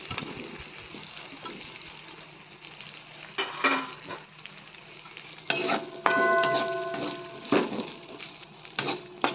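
Potatoes sautéed and stirred in a pan for a banana flower and prawn dish, a soft sizzle under repeated scraping and clanking of a spatula against metal, with louder bursts of stirring in the second half.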